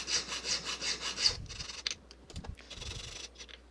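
Metal stock being cut by hand for a marquise diamond stone-setting frame: a steady back-and-forth sawing rasp for about a second, then a few short scraping strokes with brief pauses.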